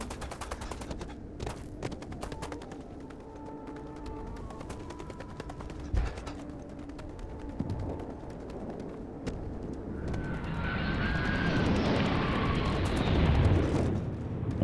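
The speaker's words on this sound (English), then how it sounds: "Alright, I hear shooting." Pirates fighting in the game Starfield, with scattered gunshots and bursts of automatic fire at a distance, building into a louder, denser rumble of fire toward the end.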